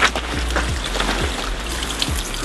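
Water trickles steadily along a trekking trail, a close, continuous splashing stream with faint dribbling pulses.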